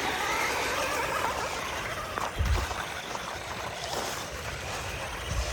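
An RC basher car spins its wheels on icy snow without traction, giving a steady whirring, rushing roar that holds throughout at close range, with a brief thump midway.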